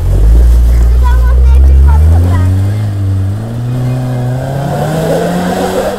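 A SsangYong Korando stuck off-road revs hard, its engine pitch climbing and falling in long loud sweeps close by, with a voice briefly heard.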